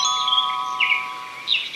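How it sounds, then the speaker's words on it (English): A bell chime on a read-along cassette marks the page turn: clear sustained ringing tones with a couple of brighter, chirpy accents rising over them, heard alone and fairly loud. "When it's time to turn the page, you'll hear the sound of the bell like this."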